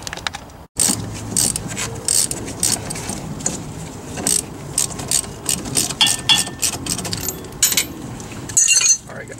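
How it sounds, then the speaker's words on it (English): Ratchet wrench clicking in quick bursts while disconnecting a sway bar link on the front suspension of a four-cylinder Foxbody Mustang, with metallic jangles and clanks close up and no talking. "I have to disconnect the sway bar link."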